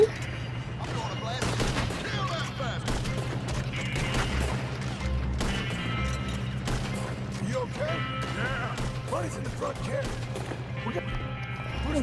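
Gunfire in Red Dead Redemption 2 crackles in repeated sharp bursts amid a chaotic game fight, with shots, impacts and crashes layered over a steady low background; a voice talks over the action.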